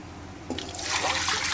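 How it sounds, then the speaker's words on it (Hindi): Water is poured into a pressure cooker holding mutton pieces with fat and bone, a close splashing rush that begins abruptly partway through and keeps building to the end. "पानी ऐड किया"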